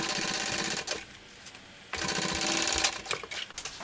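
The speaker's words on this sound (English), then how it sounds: "we're going to clip that together and sew that with the seam allowance given in the pattern" A sewing machine stitching the gusset seam of a small crossbody bag, a close, fast mechanical whir that runs, pauses briefly, then resumes with some clicks.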